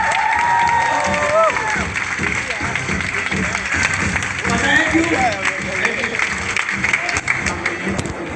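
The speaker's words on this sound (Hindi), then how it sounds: "एक बार खड़े होकर जोरदार तालियां अकरम सर के लिए" A standing audience at a Mi Lifestyle networking seminar claps and cheers loudly for Akram sir, sustained dense applause with shouts and whoops rising through it, while voices call out over the crowd.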